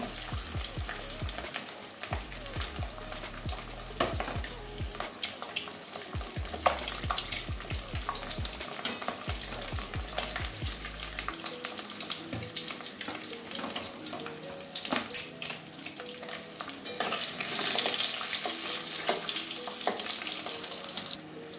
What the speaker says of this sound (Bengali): ডিমটা হালকা লাল হওয়া পর্যন্ত ভাজবো।